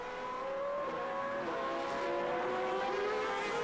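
GP2 race cars at Valencia on a damp, drying track, engines howling loudly and continuously with rising and falling pitch as several cars pass close by.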